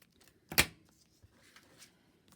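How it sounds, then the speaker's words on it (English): Scissors snip once through a scrap of paper while a trifold is being made, a single close crisp cut followed by faint rustling and small handling taps in a quiet room. "put my finger there and cut it."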